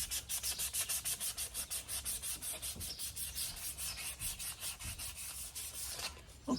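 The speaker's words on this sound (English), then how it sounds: "But first I gotta sand it down." Hand sanding on the door of a 1972 VW Super Beetle, a close, rhythmic hiss of steady back-and-forth strokes that stops near the end, with no talking.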